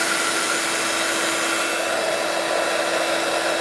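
A steady, loud whooshing roar of hot air blowing continuously with a faint hum, unchanging throughout.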